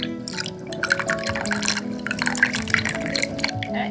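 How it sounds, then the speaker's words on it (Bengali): Water pours and drips into a dish of vinegar while rasmalai is made in a home kitchen, a steady close trickle with splashy drops over kitchen background noise. "এর মধ্যে আমি হাফ কাপ মতন একটু জল অ্যাড করে দেবো"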